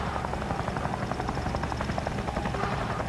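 Aircraft in the Sausage Man video game, with a steady whirring, rotor-like drone that fills the background throughout, loud and continuous, no talk.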